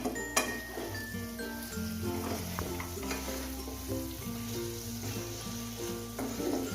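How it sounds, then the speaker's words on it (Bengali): Methi chicken being stirred in a pan, with a steady sizzle and soft utensil scrapes; background music with a bass line and melody plays throughout at a similar level. "এবার আমি ঢাকাটা খুলে নেব আর এটাকে নেড়ে নেব আমি একটুখানি।"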